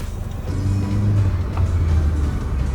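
A 30-year-old Volkswagen Passat B4 engine hums and rises in pitch as it accelerates, a steady close rumble without talk.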